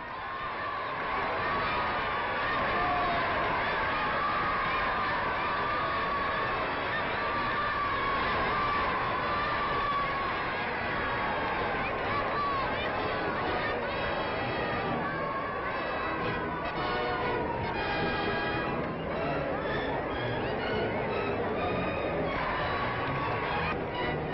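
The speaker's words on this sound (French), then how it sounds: "au milieu des acclamations populaires" A large crowd in Algiers cheering and calling out in a steady, dense roar of voices during French President Vincent Auriol's 1949 visit, with a narrator speaking over it, like an old newsreel recording.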